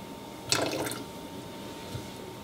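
Rose water poured into a stirred sweet dough batter for Middle Eastern dough puffs: a brief, soft liquid splash near the start, then quiet kitchen background.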